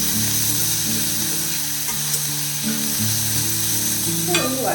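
A medium onion, chopped, sautés in oil in a pan, giving a steady close sizzle with occasional stirring scrapes and a brief clatter near the end, no talk.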